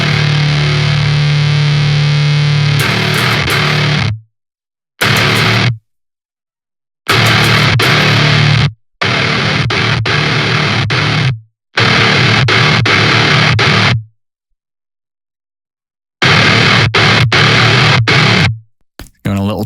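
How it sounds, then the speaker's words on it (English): Distorted electric guitar chords, distortion from a plugin, ring out in loud, gritty bursts separated by short silences. "let's just push it a little further with some distortion from this"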